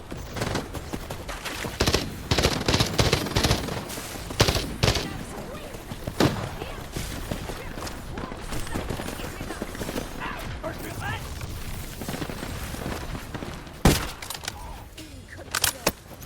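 Gunfire in the game Wuthering Waves: scattered bursts and single shots, some loud and close, others fainter, spread over a long stretch of battle noise with a voice speaking at times.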